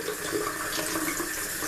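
Tap water runs steadily over a thawed boneless chuck steak as it is rinsed in a sink, a continuous close-up hiss and splash with no talking.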